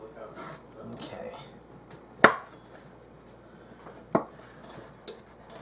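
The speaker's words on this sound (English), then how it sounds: "I'm just going to slice these just in little chunks." Knife cutting through kielbasa sausage into small chunks on a board, three sharp separate chops spaced a second or two apart, close and distinct over a quiet room.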